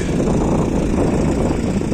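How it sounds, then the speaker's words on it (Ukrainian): A DTZ 5404 tractor engine runs steadily out in a field, a loud, continuous low rumble with no breaks and no voices over it. "Все той же тракторець."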